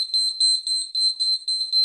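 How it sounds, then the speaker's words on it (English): Homemade earthquake detector alarm from a school project, a shrill high-pitched electronic beeper pulsing rapidly and evenly, loud and close with no other sounds. "If the copper wire touch that safety pin, the alarm will start to ring."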